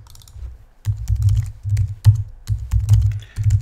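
Close-up typing on a computer keyboard: bursts of quick clicking keystrokes with brief pauses between, no talking.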